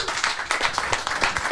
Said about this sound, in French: je vous demande d'applaudir et d'accueillir le resplendissant